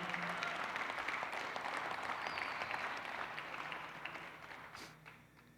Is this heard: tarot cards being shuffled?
no